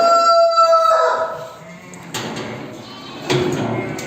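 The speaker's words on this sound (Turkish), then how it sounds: "has köylü tavuğu" Free-range village chickens on a farm, a rooster crowing loudly up close at the start, followed by a couple of sharp knocks and clatter in the outdoor yard.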